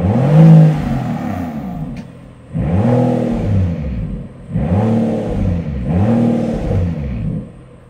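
A 2024 Rolls-Royce Cullinan Overdose S, 707 hp, with flap-actuated exhaust, revs hard four times in a row, each surge rising and falling with a deep exhaust roar, loud and close.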